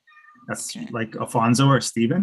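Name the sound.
cat meowing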